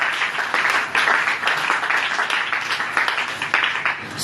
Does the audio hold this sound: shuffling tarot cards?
no